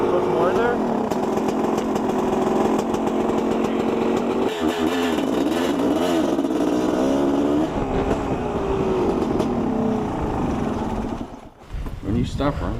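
A used motorcycle bought from Craigslist idles with fuel about five months old, its engine running loud and continuous with a rough, fluttering drone, then cutting out near the end while people talk nearby.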